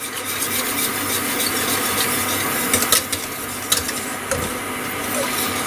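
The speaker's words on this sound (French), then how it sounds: "faut remuer tout le temps en fait" Steady scraping and swishing of a spoon stirring a mixture in a saucepan, continuous with a few sharper clinks against the pan.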